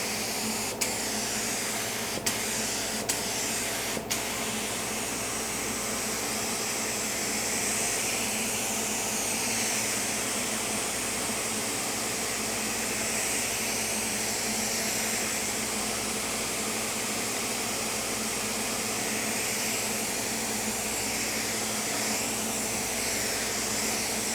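A spray gun lays down a coat of candy color paint over a dark purple base, producing a steady, loud, close hiss that runs unbroken, with a few small clicks near the start.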